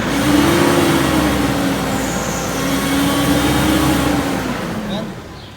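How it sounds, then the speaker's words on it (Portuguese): A Nissan Frontier pickup engine, one that developed a strange noise and lost power, revs up loud and close in a steady drone with a wavering whine, easing slightly before fading at the end. "Eu vou acelerar, você vai ver o barulho que vai fazer lá na frente."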